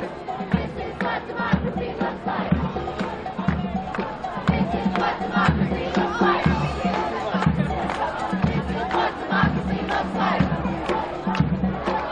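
A large protest crowd in Charlottesville roars and chants in loud, rhythmic waves, many voices shouting together close by without letup.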